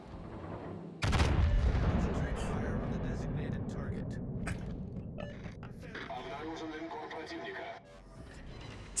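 Warship guns fire in World of Warships aboard the Soviet battleship Kremlin: a sudden loud salvo opens a long rolling rumble of gunfire and shell impacts, with scattered sharp cracks and a final boom, under occasional talk.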